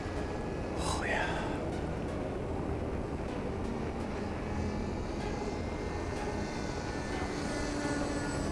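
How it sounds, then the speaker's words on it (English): A fixed-wing airplane flies overhead, a steady broad engine roar under a sunny outdoor scene, with a brief rising whine early on and faint voices nearby. "Cool plane."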